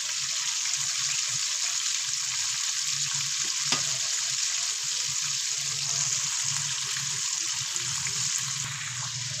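Chicken pieces for a KFC-style crispy chicken cook gently in oil over a very low flame, giving a soft, even, continuous sizzle with a few small ticks and no voices.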